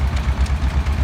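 A heavy, rusty two-cylinder tractor on spoke wheels runs with a straight pipe at a vintage tractor show, giving a loud, close, lumpy low-pitched thumping in an uneven, pulsing idle rhythm.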